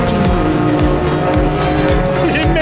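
Turbo and modified race cars lap a track during a morning session, loud engines revving repeatedly through quick gear changes with tire noise, close and continuous.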